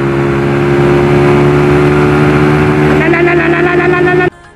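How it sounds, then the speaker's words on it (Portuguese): A motorcycle with a loud twin-outlet exhaust revs hard and steadily close by, its pitch climbing near the end before cutting off abruptly, filmed while riding on a GoPro Hero 7. "Escapão, duas bocas berrando"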